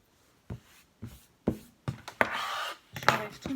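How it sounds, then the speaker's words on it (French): Scissors snip sewing threads after stitching a fabric mask: a series of short, close, crisp cuts spaced about half a second apart, with a couple of longer rustling snips toward the end, quiet and without speech. "Je coupe mes fils."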